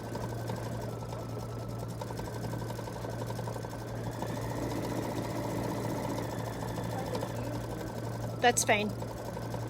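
A Kimberbell bench pillow being stitched on an embroidery machine hums steadily at close range, its rapid mechanical whir unbroken throughout, while a voice speaks briefly over it and a short clatter sounds near the end.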